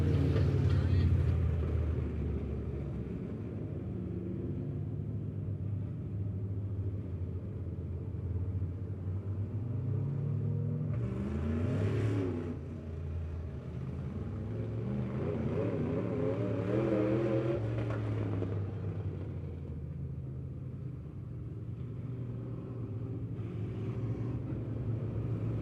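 Race cars at Lebanon Midway Speedway circle under a yellow caution after a spin, a steady low engine rumble with occasional revving that swells and fades as the field passes, while an announcer talks over the track.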